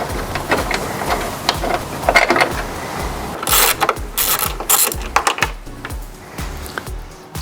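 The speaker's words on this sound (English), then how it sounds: "So let's just take this bolt out." Ratchet wrench loosening a headlight bolt on a Ford Everest: bursts of rapid clicking, loud and close, with brief pauses and metallic clatter between strokes.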